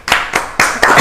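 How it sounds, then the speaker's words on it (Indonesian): Four loud separate claps in quick succession from an audience applauding Santi Mansula in a studio, close and crisp with brief gaps between them. "Kita berikan tepuk tangan buat Santi Mansula"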